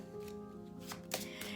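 Mystic Masters playing cards shuffled by hand, a close, brisk riffle with quick flutters and a couple of sharp snaps as the deck comes together.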